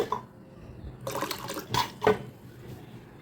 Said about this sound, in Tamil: இது வந்து நல்ல தண்ணி தான் இப்படி ஊற்றி நான் வந்து ஊற வைக்கிறேன்